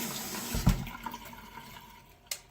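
Makeup brushes rinsed under a running tap, water splashing and hissing steadily with a brief louder gush near the start and another toward the end.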